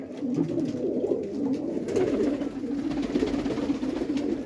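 Many pigeons coo continuously nearby, a dense, low, throaty rolling murmur with no pauses.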